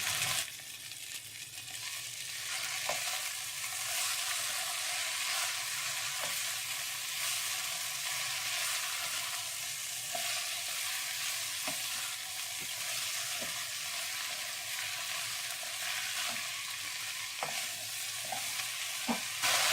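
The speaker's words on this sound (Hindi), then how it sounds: "भिंडी जो है वो 5 मिनट तक खुले बर्तन में पकानी है, इसको ढकना नहीं है" Okra frying in an open pan, stirred steadily with a utensil, giving a continuous close sizzle with scraping strokes scattered throughout and no voices.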